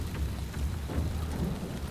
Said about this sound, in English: This rain is nice.